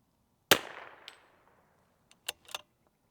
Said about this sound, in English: at 100 yards, this rifle just performs